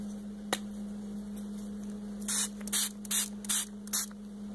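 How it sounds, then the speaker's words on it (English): A spray bottle spritzes a Beados bead model five times in quick succession, short hissy bursts close by over a low steady hum, with a faint click before them. "We'll just have to spray it."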